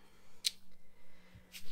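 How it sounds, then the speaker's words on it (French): Scissors snip through scrapbooking paper along a drawn line for a gift bag, two short crisp cuts close to the microphone in an otherwise quiet room. "je vais venir tout simplement couper le long de la ligne proprement pour créer une ouverture entre mes deux petits trous"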